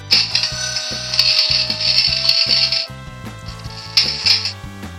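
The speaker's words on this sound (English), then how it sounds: "Cash register." A handheld electronic sound effects machine plays a cash register effect: a loud, harsh ratcheting and clattering of drawer mechanics for about three seconds, then a brief quieter pause and a second bright metallic burst.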